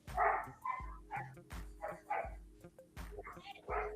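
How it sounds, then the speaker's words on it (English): Puppies bark in short, irregular bursts nearby, mixed with yips, while a person talks over them. "Yeah, I heard your puppies."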